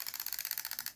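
A spring-driven toy rooster whirring as its wound mechanism runs, a fast steady ratcheting clatter of tiny ticks, close and faint, lasting about a second with no talk.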